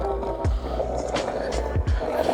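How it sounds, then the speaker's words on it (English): A skateboard fitted with Ace AF1 trucks clatters and knocks on hard ground in a few sharp impacts, with rolling noise between them, fairly close. "you drop the board on the ground and it sounds super weird"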